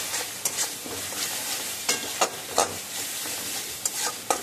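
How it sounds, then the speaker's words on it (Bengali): Spice masala with a little sugar stir-fried in a pan for a Bengali potol chingri curry, giving a steady soft sizzle broken by several short scraping stirs of a spatula, with no voices. "খুব ভালো করে মশলাটাকে কষিয়ে নেব আবার 2-3 মিনিট"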